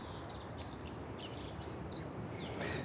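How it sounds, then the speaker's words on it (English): Robins sing from a magnolia tree in an English back garden in March, thin high phrases drifting in from some distance, faint against a soft outdoor background hiss. "I can hear robins singing in the magnolia tree."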